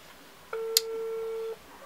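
A single steady telephone tone lasting about a second, clear and close, with a brief click partway through, heard while a call is placed.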